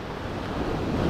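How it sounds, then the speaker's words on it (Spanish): Ocean surf rolling in along a shore where people fish for bluefish, a steady broadband wash of breaking waves building slightly louder toward the end, with wind noise on the microphone and no talking. "Miren esas olas, miren."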